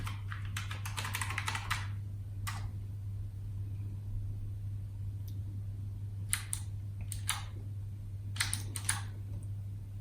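Bursts of key clicks from typing on a Commodore 128 keyboard, irregular clusters of sharp taps separated by pauses over a steady low electrical hum.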